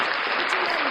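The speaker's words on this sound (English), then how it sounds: "Let's give her a round of applause." A podcast audience applauds a guest, a dense, steady wash of clapping filling the whole second without a break.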